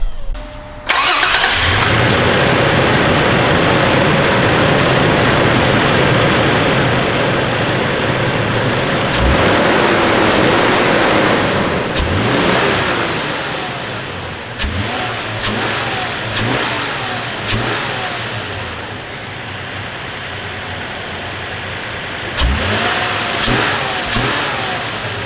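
A 2019 Toyota Tacoma SR5 fitted with a TRD intake cranks and fires up, then settles into a loud, close idle broken by several sharp throttle revs that rise and fall, with no talking.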